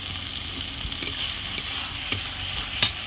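Meat sizzles steadily in a hot pan with chili powder and turmeric for a Jamai Sasthi meal, with a few scraping stirs breaking through the constant frying hiss.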